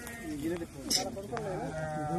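Sheep bleat in drought-stricken farmland, several short wavering calls at moderate distance, mixed in with people talking nearby.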